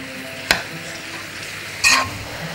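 Minced meat tossed with seven-spice blend in a pan, a steady low sizzle with two sharp scraping strokes of the spoon, close and alone.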